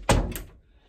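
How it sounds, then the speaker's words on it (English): A door shuts with a single loud, close thud followed by a quick second knock-like impact as it is locked, then fades to quiet. "Lock the door."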